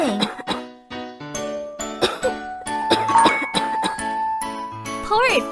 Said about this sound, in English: Rainbow is coughing.